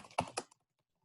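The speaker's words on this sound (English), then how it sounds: "this time I'm gonna type in my name" A name is typed on a computer keyboard, heard as two or three quick close key clacks followed by near silence.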